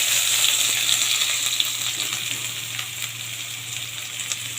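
Nigella seeds, bay leaves and chopped onion hit hot oil and sizzle and crackle steadily, close and fairly loud, fading a little as the frying settles, with a low hum underneath and no talking.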